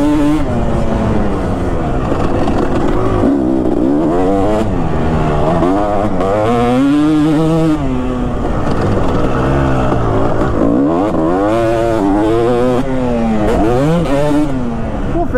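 A Kawasaki KX250 two-stroke dirt bike engine revs continuously and loudly on a motocross ride, its pitch rising and falling in repeated surges as the throttle opens and closes.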